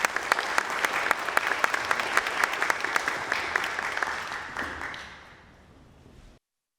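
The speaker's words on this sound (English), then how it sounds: "Can we have a very warm round of applause for Mr. Riley?" An audience claps steadily and warmly at a foundation event, dense and continuous, then thins out and fades to silence.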